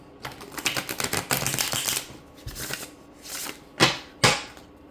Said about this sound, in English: I'm going to shuffle 2 more times, shuffle a couple times